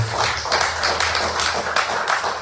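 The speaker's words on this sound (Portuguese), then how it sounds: "as palmas mais uma vez para o nosso Deus" A church congregation applauding together, a dense steady patter of many hands clapping for about two and a half seconds, fairly loud and close, with no voices over it.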